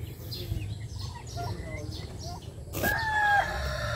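A rooster crows among farm chickens and ducks, a loud drawn-out call rising near the end, with soft clucks and bird calls scattered before it over a low background rumble.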